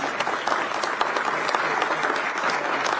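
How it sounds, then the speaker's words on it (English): Dense, steady round of applause from an audience at a national security strategy conference in a Washington think tank, even and continuous with no voices on top. "let's give him a big round of applause"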